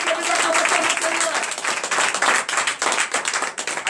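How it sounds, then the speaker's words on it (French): A church congregation claps and cheers in acclaim for the Lord during a night deliverance and prophecy service, a dense, steady wash of many hands close by, with a brief sustained tone early on. "Donnez la vive acclamation à notre Seigneur."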